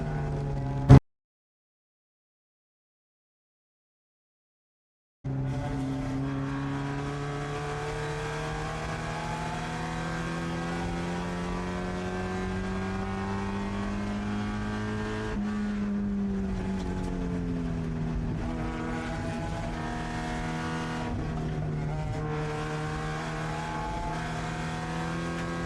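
Mazda Miata race cars at Thompson track roar past together in a night race, several engines droning and shifting pitch steadily after a short silent gap, loud and continuous with no talk.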